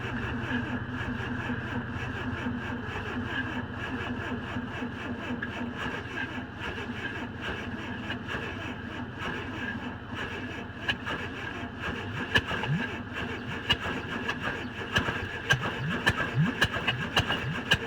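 An old VW Beetle engine cranks repeatedly on a struggling starter, turning over in steady mechanical churning that nearly catches but never fully runs, with a few sharper pops toward the end.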